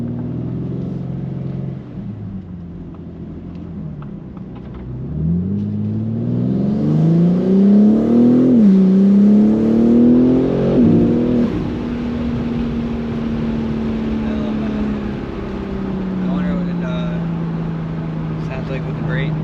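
A BMW M3 fitted with a BMS intake accelerates hard, its engine note climbing in pitch as it revs, dipping briefly at shifts, then settling into a steady drone, loud and close from inside the car.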